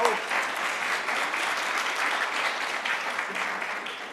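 Steady audience applause fills the room at the opening of a 2015 ISS conference, dense and sustained from start to finish with no break.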